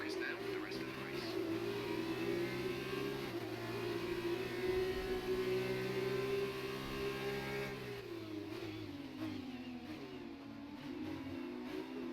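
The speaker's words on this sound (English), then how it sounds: "Me ha clavado el sonido del Fórmula 2" A Formula 2 car's engine in the F1 2019 racing game holds a steady, buzzing mid-pitched drone, easing off near the end with a slight drop in revs, heard continuously at moderate level.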